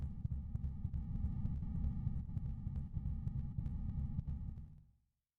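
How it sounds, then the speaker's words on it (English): Fast, steady heartbeat throbbing from the Chrono Trigger video game, a loud low pulsing rhythm with a soft hum, continuing evenly for about five seconds before cutting off abruptly. "The heartbeat's getting faster."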